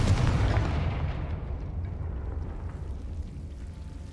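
A loud fiery blast from the Confringo spell in Hogwarts Legacy opens strongly, then rumbles and slowly decays over several seconds, with no voices.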